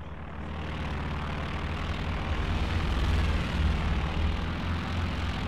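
A warplane's strafing run in Company of Heroes 2 (Luftwaffe air support): a loud, continuous propeller-engine roar that swells slightly midway and holds steady without a break, with no talking.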